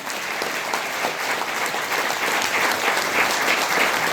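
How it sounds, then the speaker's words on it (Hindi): Loud, dense applause from an audience at a motivational talk, a steady wash of many hands clapping together that swells slightly toward the end. "एक बार जोरदार ताली हो जाए।"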